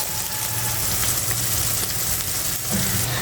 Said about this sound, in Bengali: তেলটা গরম হয়ে গেছে এখন দিয়ে দেব কেটে রাখা পেঁয়াজ ও মরিচটা এটা আমি একটু ভেজে নেব